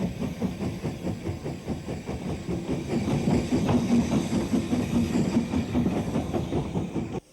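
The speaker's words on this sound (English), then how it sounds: "the locomotive known as Gothenburg leaves the station shed with its coaches." Steam locomotive Gothenburg pulling out of the shed with its coaches, a loud, close rhythmic chuffing and rumbling clatter that builds and holds steady throughout.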